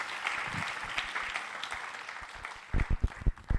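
A Spanish-speaking church congregation applauds, soft, even clapping from many hands at moderate distance, joined toward the end by a few heavier low thumps.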